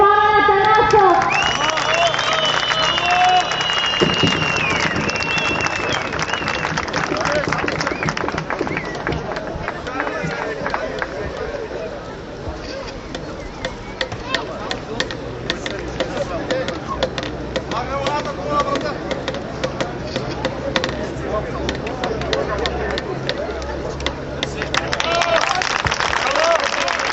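Crowd applause and cheering at a class B award ceremony, dense clapping and crowd noise running throughout, with a voice speaking over the crowd near the start.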